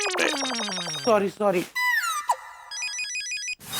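A telephone rings with a series of shrill electronic warbling tones, interrupted by a brief spoken word and other short squeaky sound effects, loud and close.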